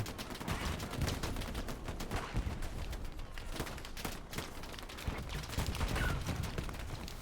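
Sustained night battle in Hell Let Loose on the Remagen map, dense overlapping gunfire and machine-gun bursts with bullets whizzing past, a constant loud rumble of shots near and far.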